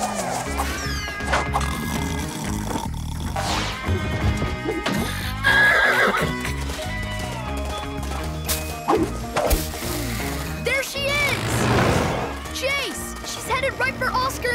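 Cartoon mare whinnying amid clip-clopping hooves and thuds, mixed with busy background music and effects.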